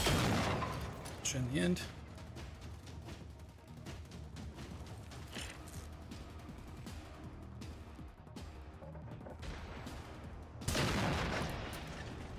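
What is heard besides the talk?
rifle gunfire in video game Generation Zero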